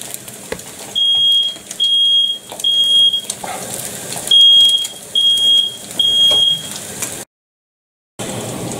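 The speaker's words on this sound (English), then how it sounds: "the smoke alarm just went nuts there." A smoke alarm shrills in repeated bursts of high beeps, two clusters of three pulses each, loud over kitchen background while square sausage and an egg fry, then cutting out abruptly.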